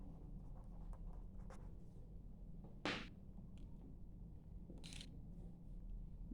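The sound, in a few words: writing on paper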